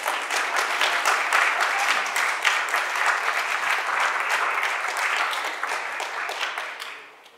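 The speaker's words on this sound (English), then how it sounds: "The children clap for the parents." Children clap together for their parents at a Sunday church service, a dense, sustained round of applause that stays loud and steady for several seconds before fading at the end.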